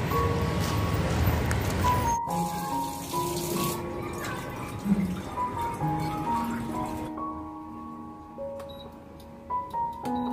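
Water runs steadily into a household storage tank, a continuous gushing flow with faint tonal hums and clicks mixed in, fairly close and without speech.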